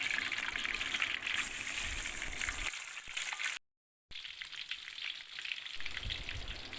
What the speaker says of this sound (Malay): panaskan sedikit minyak dalam kuali tu. Okey, goreng ikan.